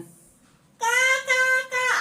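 A voice gives three loud, drawn-out harmonic calls with short breaks between them, imitating a crow's caw.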